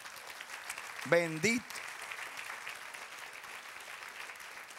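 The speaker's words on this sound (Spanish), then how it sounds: "Denle otro aplauso al Señor." A church congregation claps in a steady, moderate wash of applause, and a voice briefly calls out over it partway through before the clapping carries on alone.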